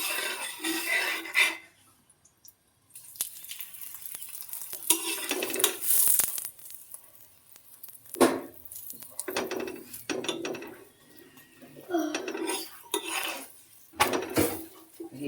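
A cheese paratha cooks on a hot tawa griddle with ghee, with close clinks and scrapes of a spatula against the pan and soft frying in uneven bursts, no voices.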